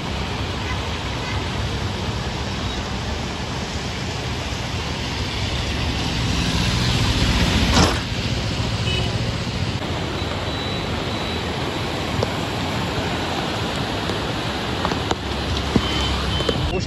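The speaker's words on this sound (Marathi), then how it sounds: "इथे बघू शकता फुल आणि पूर्ण नदी भरलेली आहे" Swollen Badlapur river rushing in flood through the Badlapur market area after torrential rain, heard as a steady, loud, broadband roar of water that holds constant throughout with no voices.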